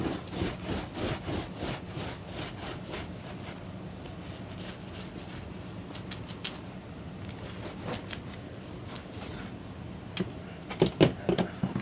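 A paint roller spreads glue across the backing of a tufted gaming rug with repeated rough, rubbing strokes at close range. Several sharp clicks and knocks come near the end.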